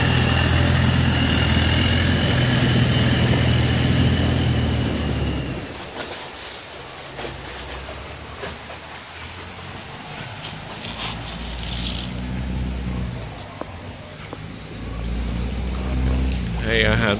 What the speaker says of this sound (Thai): ๆนี่ครับเป็นเรือโดยสารนะ